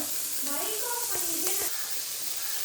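Onions sauté in a pan with a soft, steady sizzle and a few stirring scrapes, and a voice is faintly present underneath.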